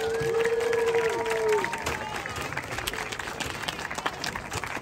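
Audience at a sea lion show at a safari park cheering and clapping in a steady, full burst of crowd applause, with a whistle-like tone early on that fades after about two seconds.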